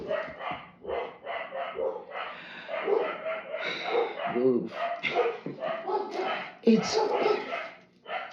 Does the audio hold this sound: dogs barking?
yes